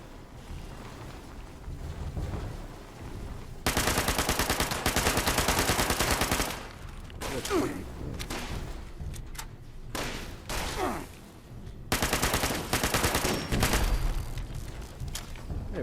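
Gunfire in the video game Fallout 76, with loud sustained bursts of rapid automatic fire and scattered single shots, broken by short gaps, close and dominant over a windy background.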